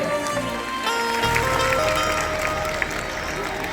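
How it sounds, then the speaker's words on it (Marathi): A school crowd at an Independence Day celebration claps loudly for students, producing a dense, continuous wash of applause over a noisy hall with voices mixed in. "जोरदार टाळ्या विद्यार्थ्यांसाठी झाल्या पाहिजे"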